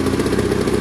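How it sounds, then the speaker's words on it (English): A Sinnis Harrier 125cc motorcycle engine with a carburettor fault runs steadily close by, a dense low throb with clattering pulses as it is held at revs, sounding rough and strained, with no voices. "Give it some revs."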